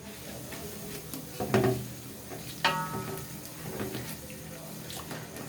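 Fennel powder and spices are stirred in a non-nonstick pot, giving soft scraping and a few louder spoon knocks against the metal over a low, steady background.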